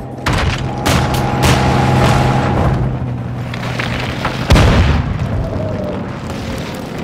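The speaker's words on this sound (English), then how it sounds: "Precision airstrike." Precision airstrike explosions in Call of Duty: Modern Warfare II, loud rumbling booms rolling one after another, with one sharp heavy blast standing out amid continuous low battlefield roar.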